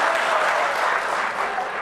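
A live audience at a comedy stage drama claps steadily together, a continuous, even burst of applause filling the short stretch without a break.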